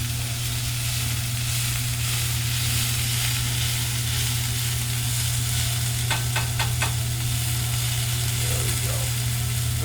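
Chicken picadillo with onion sizzles steadily in a hot pan, a loud continuous frying hiss with a few quick scraping stirs near the end and a low hum beneath.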